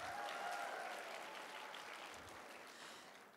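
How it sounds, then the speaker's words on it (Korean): Steady audience applause at a 2019 Asan Nanum Foundation forum fills the hall at a fairly even level, a dense wash of clapping that eases slightly toward the end, with no speech over it. "박수가 클수록 빨리 끝내겠습니다."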